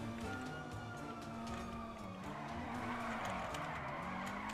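Car tires skidding and squealing in a driving video game, a continuous screeching slide over engine noise, fairly quiet and steady.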